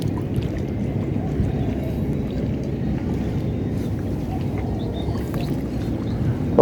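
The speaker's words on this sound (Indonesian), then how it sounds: "bingung karena anginnya kenceng sekali ya" Strong wind roars steadily and fairly loudly across the microphone at a seaside fishing spot among fishermen's boats. The rumble is continuous and broadband, with no voices.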